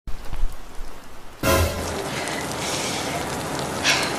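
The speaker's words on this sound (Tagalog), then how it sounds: "Ang lakas ng ulan, oh." Heavy rain starting abruptly after a short spoken line, then a steady dense hiss of downpour that continues loud and even to the end.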